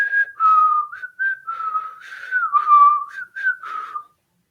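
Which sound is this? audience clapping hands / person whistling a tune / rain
person whistling a tune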